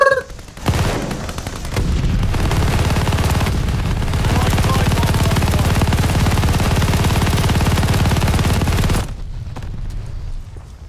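Sustained, very rapid MG42 machine gun fire from Call of Duty: Vanguard, one continuous loud burst lasting about eight seconds with a dense rattling roar, then cutting off abruptly into quieter ambience.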